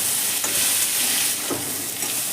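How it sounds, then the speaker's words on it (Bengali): Capsicum and potatoes frying in a pan, giving a constant loud sizzle with a few soft scraping stirs mixed in, close up and free of speech. "এই ক্যাপসিকামের সঙ্গে আলুটাও আমি খুব ভালো করে ভেজে নিচ্ছি।"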